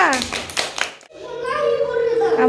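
A voice is followed by a few quick hand claps in a children's clapping game, close and bright, with the child still chattering while a tone hums beneath.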